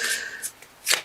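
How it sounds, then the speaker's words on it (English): Brief, close riffling bursts of cards being shuffled, three quick crisp flutters with short pauses between. "So I feel like these want to be shuffled."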